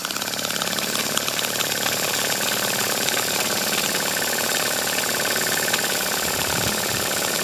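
A Cotswold Heritage Cirrus beam engine starts and runs on steam, giving a loud, steady mechanical chugging with a hissing exhaust that stays continuous and close throughout.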